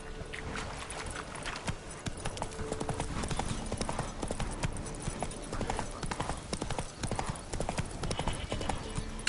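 Hooves of the horse Roach gallop in The Witcher 3 video game, a rapid, continuous clip-clop of hoofbeats close up with rustling movement around them.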